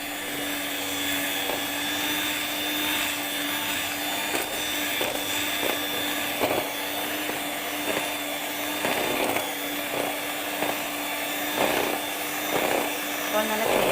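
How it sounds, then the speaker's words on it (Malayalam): An electric mixer whips cream to soft peaks for a three-ingredient mango ice cream, a steady close whirring drone with a faint rhythmic scraping from the beaters against the bowl throughout. "ഇതുപോലെ ക്രീം നല്ല സോഫ്റ്റ് പീക്ക് ആകുന്നിടം വരെയാണ് നമ്മൾ ബീറ്റ് ചെയ്യേണ്ടത്."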